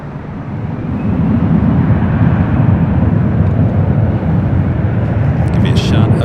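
An airliner takes off from runway 24 left at LAX, a steady, loud, broadband jet roar holding level throughout, with faint higher hiss near the end.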